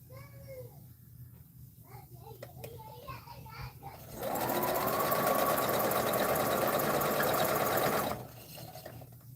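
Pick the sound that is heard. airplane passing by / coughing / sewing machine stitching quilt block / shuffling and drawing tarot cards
sewing machine stitching quilt block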